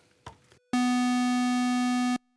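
A modular synth oscillator gated by a Chaos Devices Batumi four-channel LFO on a square wave: after a faint click, a loud, steady, buzzy tone holds for about a second and a half, then cuts off abruptly.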